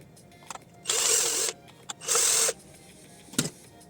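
A small screwdriver motor whirs in two short bursts of about half a second each as screws are backed out of an Arzum blender, with faint clicks and taps between the bursts.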